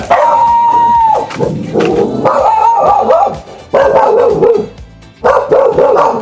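Dog barking and yipping in a series of loud, close bursts with short gaps, some whimpering tones in between, no talk over it.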